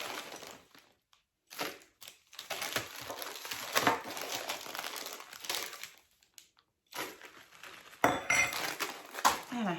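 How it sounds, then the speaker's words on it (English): Milk chocolate chips rattle and clink into a plastic piping bag, a few quick crinkly bursts of scattered tapping separated by short pauses, close and fairly loud. "Then we're gonna do a couple of tablespoons of the milk chocolate chips again."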